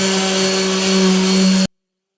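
A Gator power sander with a Reptilion sanding disc drones steadily with a constant buzzing hum, loud and close, then cuts off abruptly into silence.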